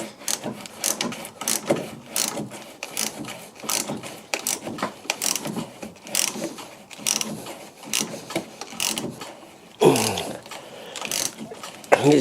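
A ratchet working on a rusty front shock absorber nut on a Fiat 500, rapid repeated clicking strokes in bursts with metallic scrapes and a louder clunk near the end, up close.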